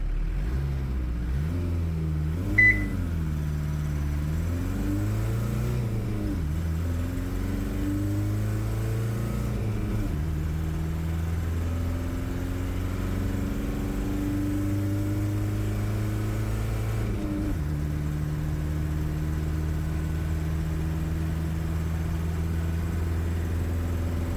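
A diesel-powered car accelerates through a 0 to 60 run on a calm, cool day, its engine droning and climbing in pitch through several gear changes over a long, steady pull, close and continuous.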